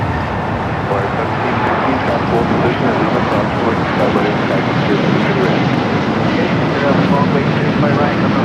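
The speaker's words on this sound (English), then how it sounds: "that American Dreamliner heading to London Heathrow now" An American Airlines Boeing Dreamliner bound for London Heathrow takes off from LAX, rolling down runway 25 right. Its jet engines give a loud, continuous roar that stays thick and even from start to finish.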